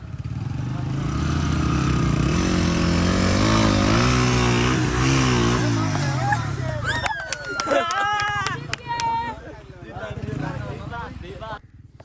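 A 125cc motorcycle engine revs loudly and steadily, then its pitch rises and falls in quick throttle bursts; voices chatter faintly underneath.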